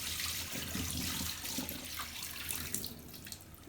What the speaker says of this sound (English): So I am going to pour out the water